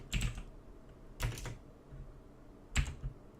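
Three short bursts of quick key clicks on a computer keyboard, close and fairly quiet, separated by pauses of near silence.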